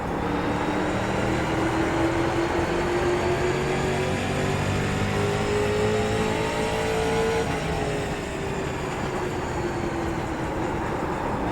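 A street stock race car at Martinsville in the iRacing sim sends out a loud, continuous engine note that sweeps up as it accelerates and sags as it brakes for a corner, with tyre and road noise under it and no talk.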